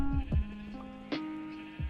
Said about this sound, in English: You can hear the sheep now.